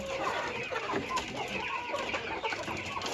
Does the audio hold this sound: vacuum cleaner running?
no